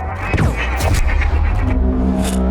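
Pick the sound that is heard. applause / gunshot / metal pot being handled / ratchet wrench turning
gunshot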